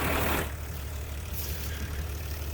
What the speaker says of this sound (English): Love this old tractor.